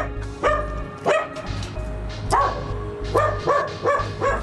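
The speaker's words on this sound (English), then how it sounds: "I hear a dog barking." A dog barks near a house in a series of sharp, loud woofs, about six or seven barks in irregular bursts, over a low rumbling background with no talking.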